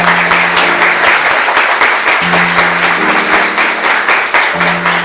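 An audience at an academic lecture on semiotics claps to welcome the professor, with a dense, continuous burst of applause filling the room and a voice speaking beneath the clapping.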